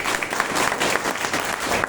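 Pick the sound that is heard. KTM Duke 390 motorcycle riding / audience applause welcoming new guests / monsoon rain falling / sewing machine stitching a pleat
audience applause welcoming new guests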